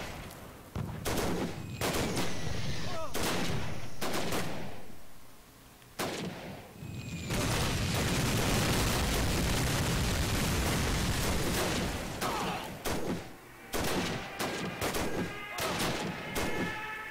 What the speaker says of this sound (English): I see gunfire.